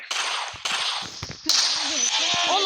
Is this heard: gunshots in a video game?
yes